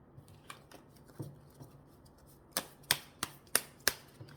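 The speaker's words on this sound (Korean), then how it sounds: "좋은 카드 좀 뽑아드릴게요." Tarot cards are drawn and laid down: soft, sparse ticks are followed by a run of crisp, close snaps and slaps, all quiet with no voices.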